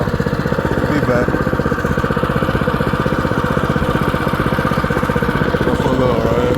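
A restored Baja DB30 minibike with a 208 engine sits idling nearby, a steady, loud, rapid single-cylinder putter that runs evenly throughout with no talk.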